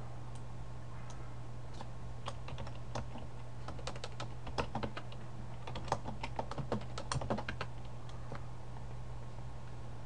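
Router configuration commands are typed on a computer keyboard: quiet, irregular clusters of key clicks over a steady low electrical hum, with no voices.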